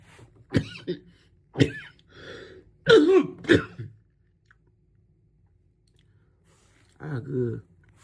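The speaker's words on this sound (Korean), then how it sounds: "방송 중에 기침이 나왔을 때 대단히 죄송합니다." A few sharp, close coughs come in short bursts separated by quiet pauses, with one more cough near the end.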